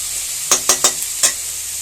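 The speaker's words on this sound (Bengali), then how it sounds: "আলু পেঁয়াজ একসাথে করে দিয়ে দিয়েছি একটু ভাজা ভাজা করে একটু নাড়াচাড়া করে" Four short scraping clatters of a spatula stirring potatoes and onions in a pan, over a steady low frying sizzle, close by and unevenly spaced.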